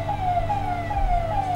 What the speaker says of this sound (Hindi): बंद करो एम्बुलेंस का, ये अस्पताल थोड़े है।